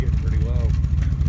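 Vintage street machine car engine idling with a low, lumpy rumble, close and steady, while people talk over it.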